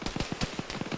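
A quick, fairly faint burst of automatic gunfire in the military shooter Arma, about eight rapid cracks in a second.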